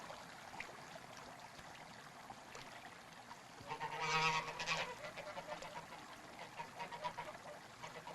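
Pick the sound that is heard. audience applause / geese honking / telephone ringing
geese honking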